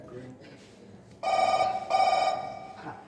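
A telephone rings loudly on stage in a Konkani comedy play, two bursts of bright, trilling bell tones with a brief gap between them, over a quiet background.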